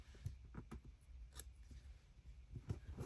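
Paper being cut with scissors at a craft table while making junk journal playing cards, a series of quiet, soft snips spread over a few seconds with low background noise.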